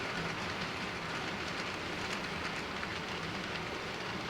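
Model freight train running on a layout, a northbound cold drag, giving a continuous close rumbling roll with a faint rhythmic clatter and no talk.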